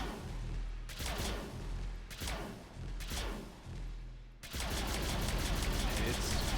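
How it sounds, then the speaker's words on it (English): Sticky-grenade weapon firing in Mass Effect 3, dense bursts of rapid gunfire and explosive thuds in several clusters, loud and continuous toward the end, with a voice talking underneath. "it fires little sticky grenades"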